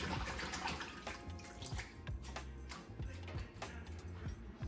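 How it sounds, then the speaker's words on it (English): Fish being washed by hand in a bowl of water for bitter leaf soup, with splashing, sloshing and irregular ticking knocks, close and moderately loud. "So I soak it for a few minutes and then I wash it out."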